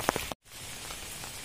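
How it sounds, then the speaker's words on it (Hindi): Steady rain patters on a surface, a soft continuous hiss with a few sharper drops, briefly cut by a moment of silence. "आज बारिश हो रहा है"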